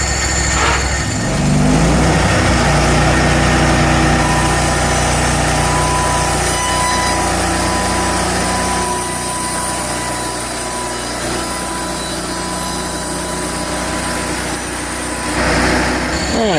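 Portable sawmill engine running at a steady idle, a continuous fairly quiet mechanical hum with a brief rise near the start, heard outdoors with no talking.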